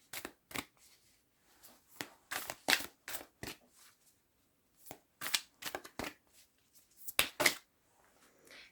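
A tarot card deck being shuffled by hand, repeated crisp riffling bursts and slaps in irregular clusters, close and fairly loud with no talk.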